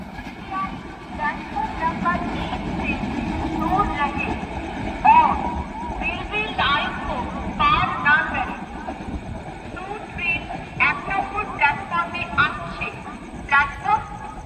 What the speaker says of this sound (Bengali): দেখতে পাচ্ছেন কাশিমবাজারের কার্ভ লাইন পার করে চলে গেল মুর্শিদাবাদ জংশন হয়ে নসিপুর ব্রিজের পথে।